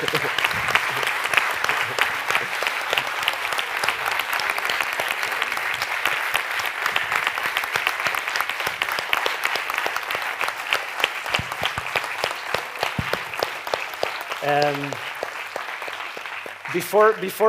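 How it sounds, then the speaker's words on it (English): Lecture audience gives a big, sustained round of applause, a dense wash of clapping continuing for many seconds, with a brief voice breaking through near the end. "let's just have a big round of applause for everyone at the same time"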